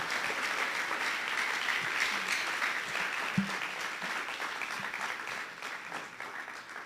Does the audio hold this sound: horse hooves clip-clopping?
no